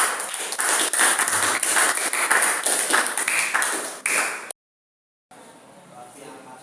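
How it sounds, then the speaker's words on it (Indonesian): A class applauds a student group after their presentation, with rapid claps filling the room for about four seconds before stopping abruptly, then faint room noise follows. "Tepuk tangannya mana untuk kelompok kinestetik?"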